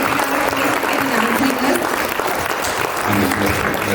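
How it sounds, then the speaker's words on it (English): An audience at an interactive community session applauds loudly and continuously, a thick, even wash of clapping close by with a faint low hum underneath. "Let's give JP Garu a big round of applause."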